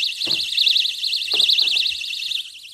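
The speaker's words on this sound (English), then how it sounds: "So if the door is opened, the alarm will go off." A door security alarm sounds loudly and continuously, a piercing warbling siren that rises and falls in a steady rhythm over faint background knocks.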